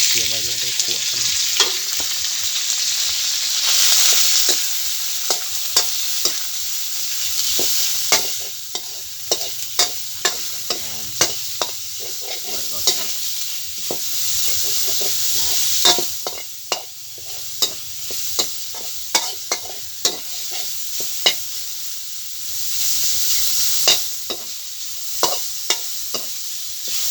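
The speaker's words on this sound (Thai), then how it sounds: "จากที่หม้อฮ้อนแล้วเราก็เอาเตรียมไว้ลงไปคั่วกัน" Bamboo shoots stir-fry in a hot pan, a steady bright sizzle with frequent scraping and clacking of the utensil against the pan, continuous and close with no talking.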